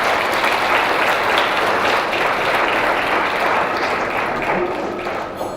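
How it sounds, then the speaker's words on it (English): Awards ceremony audience applauding, a thick steady wash of many hands clapping at close range that holds strongly and tapers slightly near the end, with no voices. "One more round of applause for Her Excellency, Maxine Hageman."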